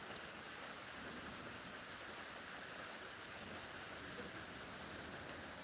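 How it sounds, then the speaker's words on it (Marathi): Rain falling steadily at a village near Miraj in Sangli district, Maharashtra, a constant broadband hiss of drops on surfaces with no breaks, even and moderately faint throughout. "तालुका मिरज जिल्हा सांगली इथे पाऊस आत्ता सध्याला चालू आहे"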